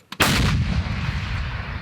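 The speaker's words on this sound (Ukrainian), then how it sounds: "Гармата! Постріл!" A single loud M777 howitzer shot during artillery training: a sharp, booming blast followed by a long rolling rumble that fades slowly.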